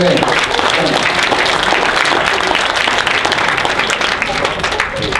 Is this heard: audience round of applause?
yes